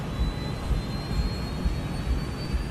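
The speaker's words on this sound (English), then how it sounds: "The crew monitors the speed as they accelerate down the runway." Malaysia Airlines jet engines roaring steadily as the airliner accelerates down the runway for takeoff, a loud continuous rumble with a thin high whine on top.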